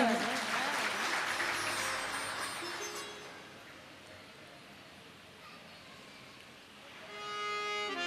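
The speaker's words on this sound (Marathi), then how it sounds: "टाळ्या वाजवा" An audience at a Bhagavat katha gathering claps, a dense burst of applause that fades after a few seconds and then swells again near the end.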